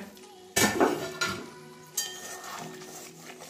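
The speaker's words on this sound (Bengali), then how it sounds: "এবারে ঢাকনাটা খুলে নেব।" A metal lid lifted off a cooking pan of simmering egg curry, a sharp clank followed by a couple of lighter clinks and soft bubbling, close and alone.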